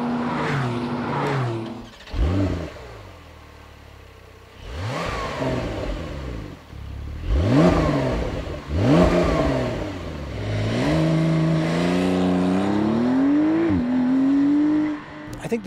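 A 2020 Porsche 911's turbocharged flat-six engine revs hard several times, pitch climbing and falling with each throttle blip, then holds a rising sustained roar near the end.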